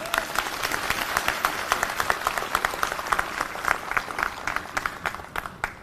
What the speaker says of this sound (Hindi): ज़ोरदार तालियां हमारी ऑडियंस के लिए।